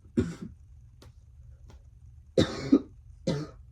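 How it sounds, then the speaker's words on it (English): Several separate coughs, near and fairly loud, spaced out with quiet gaps and faint clicks between them. "I'm so sorry for all the coughing."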